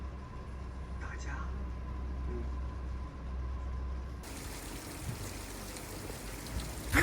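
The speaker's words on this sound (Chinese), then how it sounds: "刚刚那个狂风暴雨来的太突然了" Sudden heavy rain and wind pelt a camper van parked at a riverside campsite in Yunnan. A steady low hum runs underneath, then the dense hiss of the downpour jumps noticeably louder partway through and keeps roaring.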